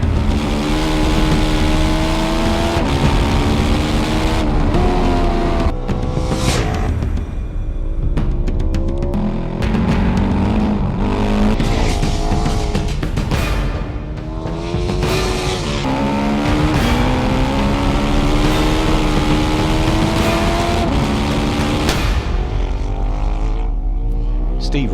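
A Ducati 1198S superbike laps a race track at full pace, its engine a loud, continuous high-revving wail that rises and drops through gear changes across the whole stretch, with a voice talking over it.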